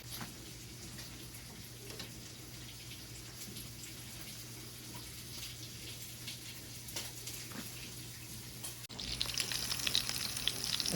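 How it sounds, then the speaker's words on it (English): Jowl bacon frying in a pan, a steady close sizzle and crackle running throughout, growing louder and brighter near the end. "This morning I'm cooking some jowl bacon to go in with my collard greens that I'll be cooking for our dinner."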